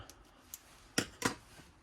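Scissors snip a plastic bait bag of compacted winter bait mix, a couple of faint ticks followed by two sharp, close cuts in quick succession in a quiet room.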